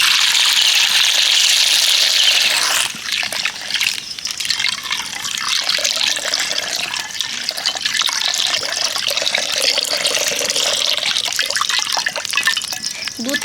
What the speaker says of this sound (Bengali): কড়াইতে দিয়ে দেবো 500 দুধ